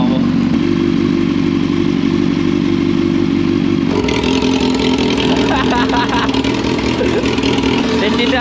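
A Kawasaki Ninja motorcycle engine runs with its Arrow exhaust removed, a loud, steady close-range drone that rises in pitch and intensity partway through as the revs climb, with people talking over it.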